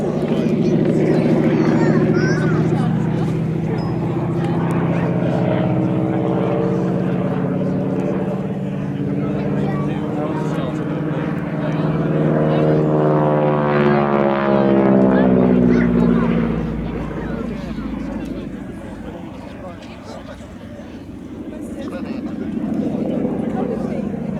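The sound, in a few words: T6 Texan Harvard propeller aircraft flying at an airshow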